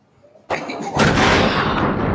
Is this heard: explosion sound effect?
yes